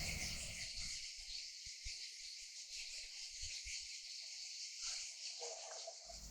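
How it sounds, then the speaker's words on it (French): Cicadas singing in Antibes on a warm August day, a steady high continuous buzzing drone filling the background, with soft low handling bumps beneath and no talk. "Ce que l'on entend constamment en Antibes, c'est le chant des cigales."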